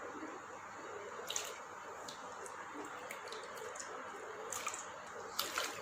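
Sliced potato chips being rinsed in clean water give off faint, scattered drips and soft wet splashes, quiet and close, with small ticks standing out now and then.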